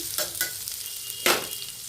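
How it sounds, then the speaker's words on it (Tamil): Chunks of elephant yam (karunai kizhangu) tossed in hot oil in a pan, giving a steady sizzle with two or three louder scraping stirs, close and clear, with no voices. "அதை நல்லா போட்டு இந்த ஆயிலில் போட்டு ஒரு பரட்டிடலாம்"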